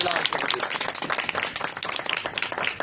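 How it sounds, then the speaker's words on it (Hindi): Loud applause and clapping from a church congregation during a Hindi-language sermon, a dense continuous patter lasting the whole few seconds, with a voice faintly mixed in. "जोरदार तालियां खुदावंद।"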